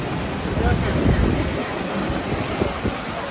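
Steady outdoor wind rushes and buffets the microphone at thermal baths in Zakopane, Poland, with a low rumble and faint water sounds in the background.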